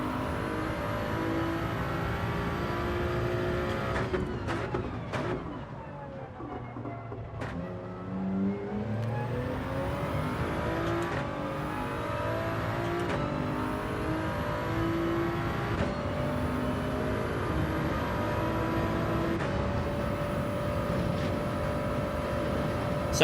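Race car engine in Gran Turismo 7 holding a loud, steady high-revving drone down a straight, with sharp gear-change dips and climbing pitch sweeps, no talk over it.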